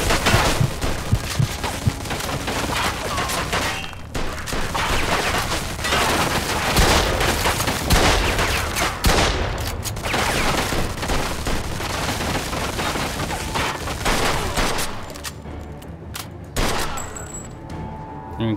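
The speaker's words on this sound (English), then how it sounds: "They're shooting at me, for Christ's sake!" Sustained gunfire in a Mafia II shootout, loud rattling volleys and booming shots keep going almost without a break before thinning out near the end, with faint voices under the noise.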